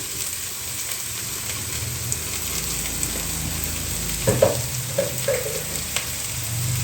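Masala with asafoetida sautéing in a pan for prawn biryani, giving a continuous hissing sizzle that runs throughout, with a cluster of close scraping stirs and clinks toward the end and no voices.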